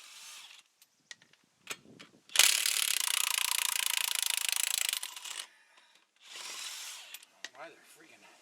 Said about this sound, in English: Taking lug nuts off the AC.